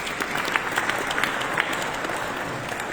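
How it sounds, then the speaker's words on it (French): A hall audience claps for the minister of cultural affairs at a museum rehabilitation ceremony, a brisk, even wash of many hands with a few sharper individual claps standing out. "on l'applaudit s'il vous plaît."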